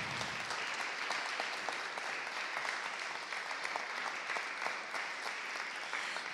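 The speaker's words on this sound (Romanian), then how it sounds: "Aș vrea să îi aplaudăm și să le mulțumim și îndrumătorilor acestor copii." Steady audience applause filling a chamber concert hall at a university palace, many hands clapping continuously and fairly loud throughout, with no voices over it.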